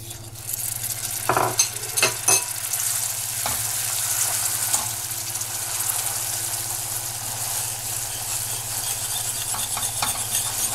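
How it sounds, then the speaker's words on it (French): A whisk works butter into hot caramel in a pan just off the heat, giving a steady bubbling sizzle with a few sharp clinks of metal against the pan near the start. "je rajoute le beurre et je vais mélanger tout de suite avec mon fouet pour intégrer le beurre"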